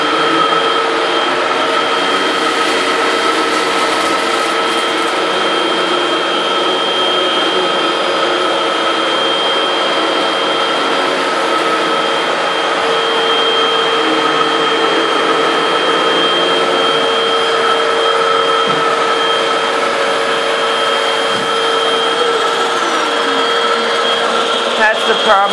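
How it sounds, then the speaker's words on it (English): Two vacuum cleaners, a Hoover Windtunnel Max and a Fantom Lightning, run together at the same height setting, producing a loud, continuous whine with steady tonal hums throughout. "So we'll turn both these vacuums on."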